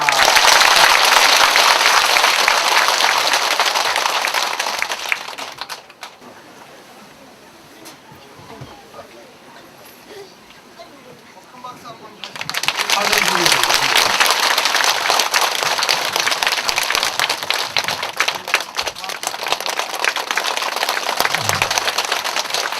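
A crowd at a Buddhist temple dharma talk in Cheongju breaks into loud, sustained applause, fades to a quieter stretch with a voice for several seconds, then erupts into another long round of clapping.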